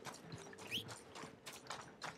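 Hoofbeats of a horse in the Red Dead Redemption 2 game clop in a steady, moderately loud walking rhythm, with a brief higher squeal around the middle and faint game ambience underneath.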